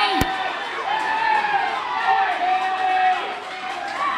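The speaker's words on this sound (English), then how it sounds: "Half of them are cheering, half of them are booing." A large crowd roars with mixed cheers and jeers, a dense wash of shouting voices that rises and falls.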